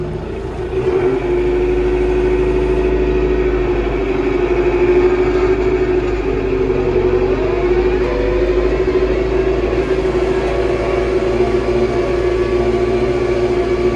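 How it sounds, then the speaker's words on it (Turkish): A Tümosan 8195 tractor pulls a harrow in a field, its steady loud engine drone carrying a whining transmission tone that holds throughout without a break, close and continuous with no talk. "vites seride olunca birazcık daha fazla şanzıman ses alıyor"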